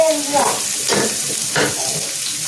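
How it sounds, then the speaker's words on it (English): Food sizzles in a pot while a utensil scrapes and stirs a few times, close up, with a brief voice at the start; Jamaican-style steamed fish and vegetables cooking. "Let me stir this."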